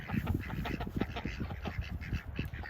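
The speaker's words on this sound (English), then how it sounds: "We got ducks being mean to each other." Several ducks quack in rapid, squabbling bursts close by, a busy overlapping chatter of calls with no pauses.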